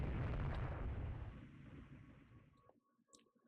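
A heavy broadside of 8-inch naval guns in the naval strategy game Rule The Waves 3: a loud, rolling blast that rumbles and slowly decays to near silence. A few faint, thin tones follow.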